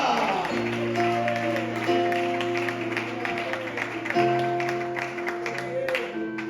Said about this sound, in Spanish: Aplaude a su palabra en esta tarde